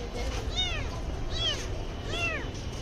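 A kitten in a brick courtyard gives three clear, rising-and-falling meows, evenly spaced over a steady background hum and murmur.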